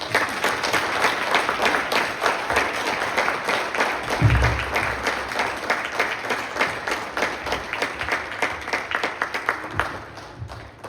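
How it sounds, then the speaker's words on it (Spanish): Sustained applause from an audience welcoming a guest speaker, Janet Pérez Eccles, a dense steady patter of many hands at moderate level lasting the whole stretch, with a brief low thump partway through. "Un aplauso"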